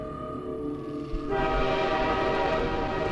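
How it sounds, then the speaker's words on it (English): Tram ride in the video game Half-Life 2, a loud, steady rumble of the moving rail car with a sustained horn-like tonal drone that swells partway through, no voices. "We're back on the tram."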